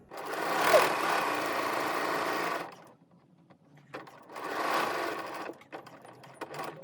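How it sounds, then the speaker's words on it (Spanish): A Janome 7010 domestic sewing machine runs a short bar-tack backstitch at a 2.5 mm stitch length, making a close, even motor whir for about two and a half seconds. It pauses, then runs a second shorter burst. "Y voy cosiendo cada pieza una detrás de la otra."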